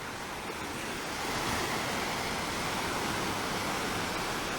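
Surf breaking steadily on a Barbados beach where surfers are out, a continuous broad wash of waves with light wind noise and no distinct individual crashes.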